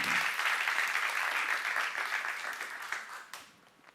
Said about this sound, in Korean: 박수 하나 더 해주세요.